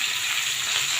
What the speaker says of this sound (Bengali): ডিমটা এখন মাছের সাথে ভেজে নিব।